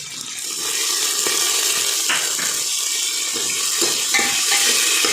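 Green peas tipped into a pan of frying onions for a Marathi green-pea curry, a steady close sizzle and hiss running throughout with a few light scraping clinks, no one talking.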